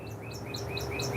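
Small birds chirp repeatedly outdoors on a breezy day ahead of storms, bright short tweets coming steadily over a low rumble of wind, fairly near and clear.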